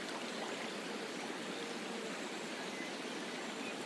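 A waterfall with gently flowing water gives a steady, even rush of falling water, soft and continuous without pauses or voices.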